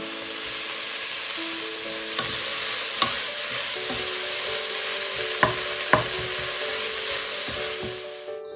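A spoon stirs cherry tomato pizza filling in a pan, a steady soft sizzle with a few scraping knocks against the metal, close and alone with no voices.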